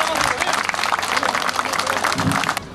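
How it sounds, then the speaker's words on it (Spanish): A crowd applauds at a 2019 street parade in Cocharcas, a dense continuous patter of many hands at moderate volume that keeps going throughout, with voices mixed into the noise. "Le brindamos un fuerte aplauso."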